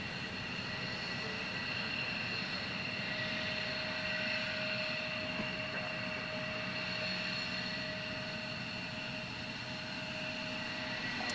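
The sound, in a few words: aircraft flying past during plane spotting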